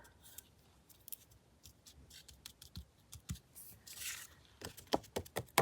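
Scissors snip at the corner of a sheet of paper during glued paper crafting, with a run of short, quiet cuts and rustles that come quicker toward the end, heard alone with no talk.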